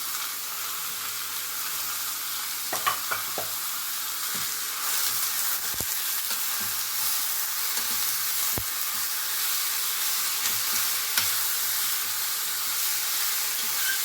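Chicken sukka with masala powder sizzles steadily in a pan while being stirred and fried, with occasional sharp clicks and scrapes of the spoon against the pan; no talking.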